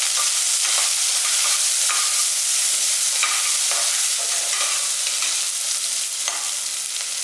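Shallots and whole green chilies frying in hot oil with fennel and curry leaves, a loud, steady sizzle that runs throughout, with faint stirring scrapes.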